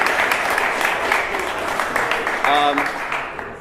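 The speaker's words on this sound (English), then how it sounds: "We should give her a round of applause" An audience at a book launch applauds for the author, a dense and fairly loud wash of clapping running throughout, with voices and a brief tonal sound rising near the end.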